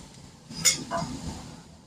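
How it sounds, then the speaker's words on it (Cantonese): A metal spatula tossing ginger slices, wood ear fungus, dried lily flowers, tofu skin and tofu puffs in a wok gives two quick, faint metallic clinks against a quiet background. "用鑊鏟將佢兜勻"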